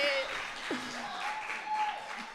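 Applause and cheering from an audience voting by acclaim for Sant Miquel at a Christmas Pastorets show, a steady crowd wash with shouts and voices rising over it throughout.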